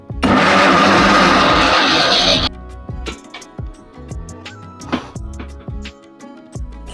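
A mixer grinder blends roasted peanuts into peanut butter with a loud, dense whirring that runs for about two seconds and then cuts off. Clunks and scraping follow as the jar is handled, with scattered taps and knocks.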